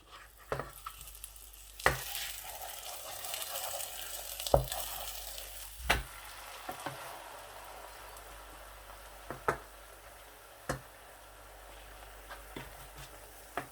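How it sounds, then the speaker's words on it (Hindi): Radish-stuffed paratha fries in butter on a griddle with a steady, close sizzle, broken by sharp scrapes and taps from a spatula turning and pressing the flatbread throughout. "बखूबी पराठा जो है वो आहिस्ता आहिस्ता पक रहा है"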